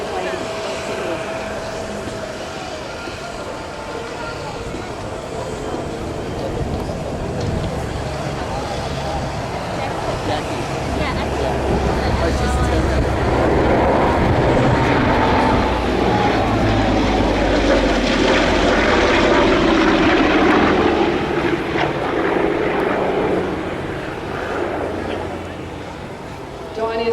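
Propeller airplane flying at the EAA airshow in Oshkosh, its engine drone steadily building to a loud, close peak before easing slightly, with someone talking over it throughout.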